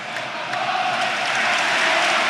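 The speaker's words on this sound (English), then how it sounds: "the crowd are making plenty of noise out there, both sets of supporters" Home and away supporters at a Sheffield Wednesday versus Leeds United football match fill the stadium with a steady, loud, unbroken crowd roar that swells slightly toward the end.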